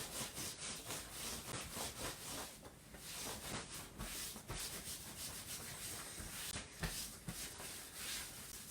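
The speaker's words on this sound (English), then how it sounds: "So rubbing your hands together and brushing down your arms." Hands rubbing together during a gentle standing warm-up, a soft continuous dry brushing and swishing with rhythmic strokes, quiet and close with no talk.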